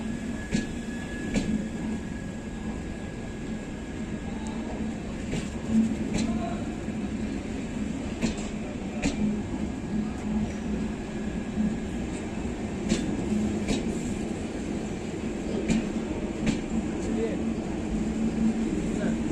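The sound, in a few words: passenger train, Chauri Chaura Express, running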